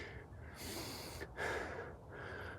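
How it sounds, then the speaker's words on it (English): A hiker on the New England Trail breathes heavily after climbing steep inclines, with quiet, close, ragged inhales and exhales in a few uneven bursts and no talk. "I can hear me breathing."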